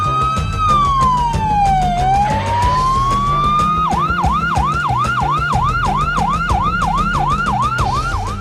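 An ambulance siren wails loud and close, first a slow rising and falling sweep, then switching to a rapid repeating yelp cycle that continues steadily to the end.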